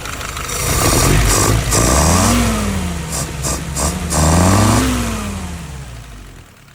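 Engine of a Yanmar-style YS 950S compact tractor, warmed up, revving twice: each rise in pitch climbs and settles back, loud and close, with no talking over it.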